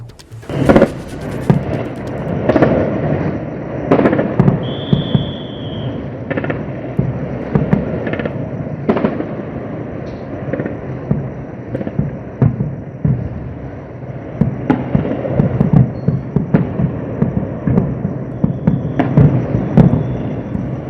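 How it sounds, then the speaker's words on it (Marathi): Irregular explosion bursts and thuds roll through continuous background noise in the Nagrota area during a drone attack, some sharp and some muffled, scattered over about twenty seconds. "नागरोटा परिसरात स्फोटांचे कांठळ्या बसवणारे आवाज हे पाहायला मिळाले"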